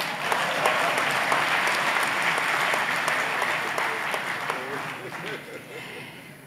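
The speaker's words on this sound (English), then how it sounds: "if any people here believe in this, please applaud me" Conference audience at an investment gathering breaks into sustained applause, a dense wash of clapping that stays loud, then slowly fades, with murmuring voices in the crowd underneath.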